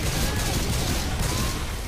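Sustained rapid gunfire from the Left 4 Dead 2 video game, a dense continuous stream of shots at steady loudness throughout, with no clear talk over it.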